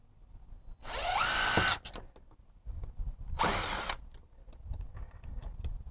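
A screw is pulled out of a tire with a tool, making two short, whirring mechanical bursts that rise in pitch, separated by quieter clicks and handling noise.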